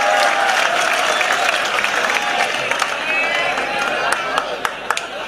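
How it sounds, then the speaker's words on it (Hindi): Audience clapping at a Hindi humorous poetry gathering, a broad, steady wash of applause from a crowd that holds level throughout with a few sharper claps near the end. "एक बार तालियां बजाकर मुझे भी अनुमति दीजिए।"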